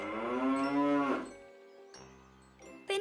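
An animated cartoon cow lets out a long, loud, drawn-out bellow close by, followed by a quieter lowing moo and the start of another loud call.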